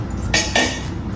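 A large metal cooking pot, a boiler, is handled in a home kitchen, giving two short, loud clanks close by against a low background hum.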